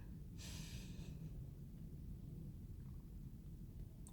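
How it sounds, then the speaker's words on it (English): A slow, airy inhale through the nose during a guided breathing exercise, heard as a soft hiss about half a second long, quiet and close over a low, steady background rumble. "we're going to inhale slowly through our nose"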